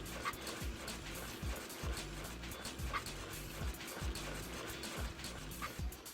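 Dog character in the Fur Fighters video game on Dreamcast barking, with short yips and whimpers scattered over a steady game background of watery ambience, fairly faint and repeated across several seconds.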